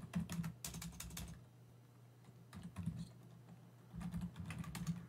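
Quick, close clacking keystrokes on a computer keyboard come in bursts with brief pauses, soft and alone.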